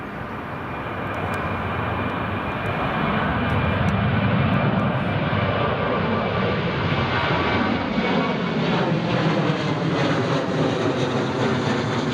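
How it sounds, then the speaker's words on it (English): A Ryanair airliner passes at Newcastle Airport on a windy day, its engine roar building to a loud, steady broadband rush that holds for most of the clip with a slowly shifting tone as it goes by. "There goes the Ryanair."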